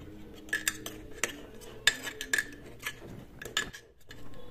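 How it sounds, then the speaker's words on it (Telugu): A spoon stirring a honey face pack mixture in a small bowl, a close run of light clinks and scrapes in an uneven rhythm. "సో ఈ 3 కలిపి మనం మంచిగా కలుపుకోవాలన్నమాట."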